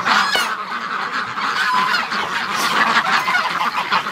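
Canada geese honk loudly and continuously at close range, a dense overlapping chorus of calls from several birds with steady background noise.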